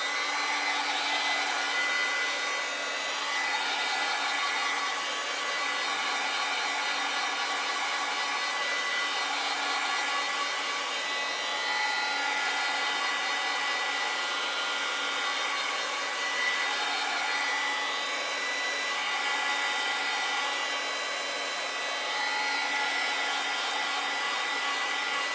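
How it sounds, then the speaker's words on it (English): A hair dryer blowing on a canvas freshly coated with gesso, a steady loud whirring rush that holds for the whole stretch, with slight wavering as the dryer is moved back and forth. "And I'll dry that. Just make sure it's really good and dry."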